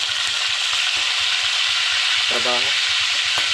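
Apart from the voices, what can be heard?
fish frying in oil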